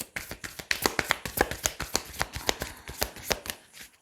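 Tarot cards are shuffled and laid down one after another, making a quick, uneven run of crisp close-up taps and flicks with no talk over them.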